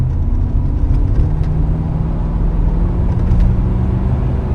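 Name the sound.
1987 Chevrolet El Camino SS engine accelerating hard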